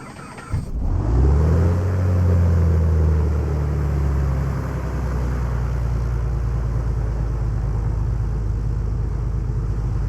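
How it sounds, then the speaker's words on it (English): The left engine of an aircraft in Microsoft Flight Simulator 2024 is started without priming after being flooded. It cranks and catches into a loud, steady low rumble that holds to the end. "let's just try starting with no prime on the left engine and see how that works"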